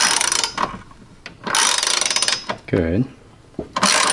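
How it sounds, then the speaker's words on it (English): A ratchet tightens the bolts on a car's strut brace. Quick runs of ratcheting clicks come in bursts, close by, and a voice speaks briefly between them. "then you tighten it with the ratchet"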